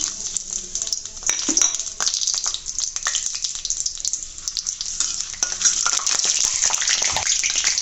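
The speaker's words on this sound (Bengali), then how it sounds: "এখন এগুলো গরম তেলে আমি দিয়ে দেবো।" Bay leaves, cardamom pods and cinnamon pieces drop into hot oil and fry with a loud, close, steady sizzle, stirred with clinks of a utensil against the pan while cooking dried fish with tomato.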